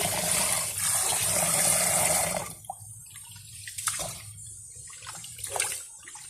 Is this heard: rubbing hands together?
no